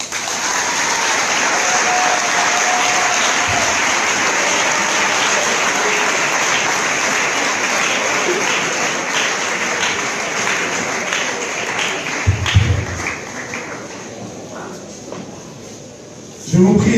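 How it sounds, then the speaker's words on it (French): A university audience applauds the speaker after a lecture on leadership and good governance. Dense, steady clapping fills the hall for about twelve seconds, then thins and fades, with a few low thumps and a brief voice near the end. "Je vous prie d'applaudir encore plus fort l'orateur du jour."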